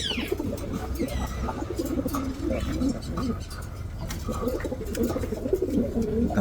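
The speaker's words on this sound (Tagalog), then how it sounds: "Iba ang huni nito kaya tinawag siyang Bukhara." Bukhara trumpeter pigeons coo in low, rolling, trumpet-like bursts, close by, with fluttering and rustling noises scattered throughout.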